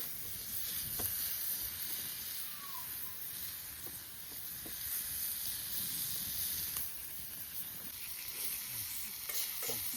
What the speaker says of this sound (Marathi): आणि आता हे चिकनचे पीस त्यावरती ॲड करायला लागली शुभांगी